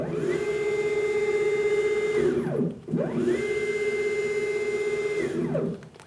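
A NEMA34 stepper motor drives a CNC mill's Z-axis during motor tuning. It whines in two separate moves, each with a steady tone that ramps up, holds, and sweeps back down, with a short pause between them.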